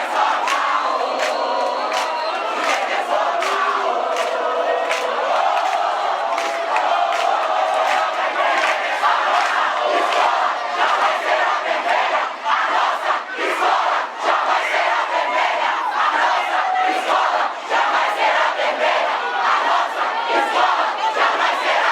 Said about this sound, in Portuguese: acontece um vaiaço de ambas as partes